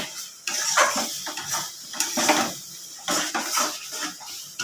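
Chicken curry stirred in a pot with a spoon, giving a run of close scraping and clinking strokes against the metal in an uneven rhythm, with no voice over it.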